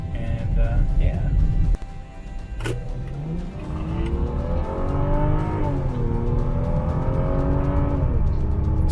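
A 1999 Lexus GS300, freshly given a suspension overhaul and showing a coolant temperature fault code, drives along with a steady engine hum that rises through gear changes, heard from inside the cabin with people talking over it.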